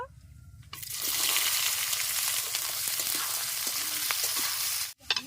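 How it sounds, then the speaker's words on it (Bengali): Chopped onion drops into hot oil already tempered with bay leaves and whole garam masala for mutton curry, bursting into a loud, steady sizzle that runs for several seconds before cutting off abruptly. "ফোড়ন হয়ে গেছে, ফোড়নের মধ্যে পেঁয়াজ কুচি দিয়ে দেব।"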